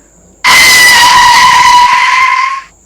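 A car braking and skidding, used as a sound effect: a loud, sustained tire screech that cuts in sharply, holds for about two seconds, then fades out, with nothing else heard.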